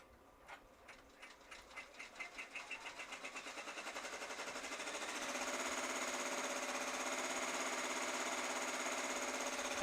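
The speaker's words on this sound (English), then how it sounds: "I'm gonna do a head clean first before I do this." A DTF printer runs a print head cleaning cycle, starting with rapid rhythmic mechanical clacks that speed up and then merge into a steady whirring hum, faint and close with no talk.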